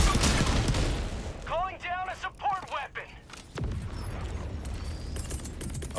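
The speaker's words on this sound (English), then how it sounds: "I think it moved. Shoot it." Bursts of automatic gunfire aimed at a Terminid bug in Helldivers 2, loud and rapid with mechanical clatter, while players talk over the shooting.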